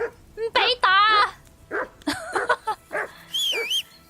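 A dog in the video game Kingdom Come: Deliverance II barks, yips and whimpers in a quick series of close, high, excited calls and whines.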